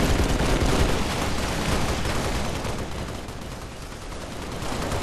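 Heavy gunfire from a big gun in Halo Reach, a dense, continuous roar of loud, close shots that holds steady for the full few seconds and tapers slightly toward the end.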